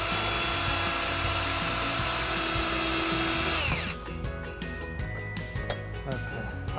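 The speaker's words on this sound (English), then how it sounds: "just drill a couple of holes in the bottom of the bumper" A power drill whines steadily at high speed for several seconds while drilling holes in the bottom of a 2008 Jeep Liberty bumper, then stops, leaving quieter clinks and handling noise.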